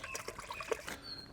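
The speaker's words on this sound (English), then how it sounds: "Also going to add some soy sauce." Soy sauce trickles into a pan of ginger chicken wings with split chili, ginger and fennel seeds, a short, faint pour heard close up with light splashing and no talk.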